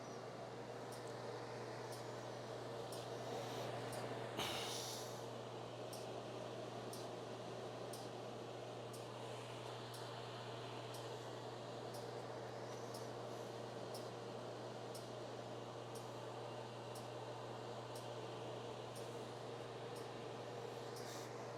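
A Robinair AC refrigerant recovery machine runs through its second recovery stage, a quiet steady mechanical hum with faint regular ticking and one brief louder knock.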